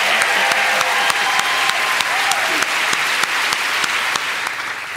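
Loud, dense audience applause fills an event hall at the ISFiT 2009 student festival, sustained clapping from a large crowd with sharp individual claps standing out throughout.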